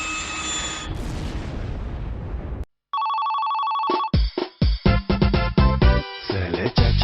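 Cartoon telephone ringing in an animated series produced at an African animation studio: a sustained electronic ring tone, loud and alone, followed by a burst of busy cartoon sound effects.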